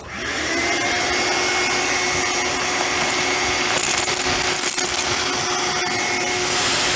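A shop vacuum runs steadily and loudly throughout, sucking up rinsed debris during the front clip and interior teardown of a 1973 Ford F250 crew cab, with no talk over it.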